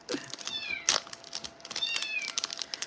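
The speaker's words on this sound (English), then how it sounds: "the other cat's going crazy because it knows it's about to be fed" A cat meows excitedly in repeated rising calls just before feeding time, fairly close, with a second cat sounding off in the background and no talking.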